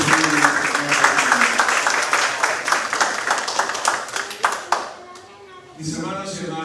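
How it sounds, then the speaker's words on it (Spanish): A church congregation applauding, a burst of many hands clapping close by that thins out and stops after about five seconds, then a voice starts talking. "Denle un aplauso"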